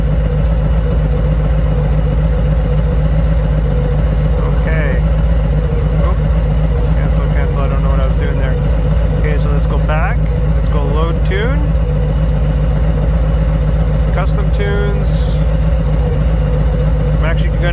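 A Harley-Davidson Sport Glide motorcycle idling, a loud steady low rumble that continues throughout while a person talks over it intermittently.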